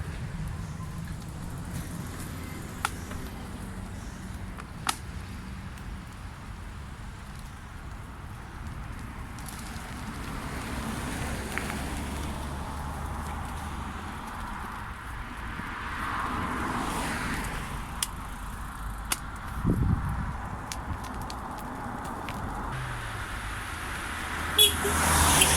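Heavy traffic streams along a very busy A road, Foss Lane, a continuous broad roar of passing vehicles with occasional louder passes and sharp knocks, no talking.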